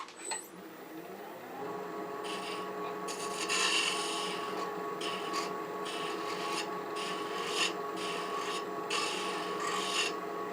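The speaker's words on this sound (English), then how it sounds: "I'll use I think this shear scraper will probably handle that." A shear scraper works the bottom of a turned wooden stacking box on the lathe, giving a steady close rasping scrape with a faint motor hum beneath and repeated short bursts as the tool rubs the spinning wood.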